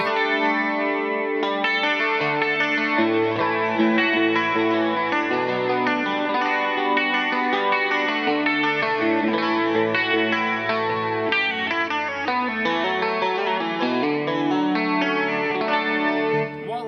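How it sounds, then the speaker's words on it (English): Clean electric guitar chords ring out with a shimmering chorus effect and lush reverb, played in a steady strumming progression, alone and up close. "you've got that kind of CE1 chorus setting, lots of reverb, and just playing really nice indie chords"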